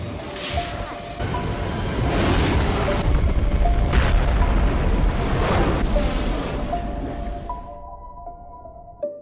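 A long, rumbling movie explosion roars and whooshes for several seconds over a low boom, with tonal beeps and music-like tones layered on top.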